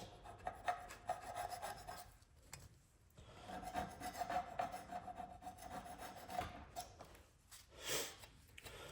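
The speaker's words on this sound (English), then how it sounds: "it's actually quite difficult to scrape clean" A model car part for an RB20 engine build being scraped clean, with repeated close rasping and rubbing strokes in uneven bursts, alone with no talk.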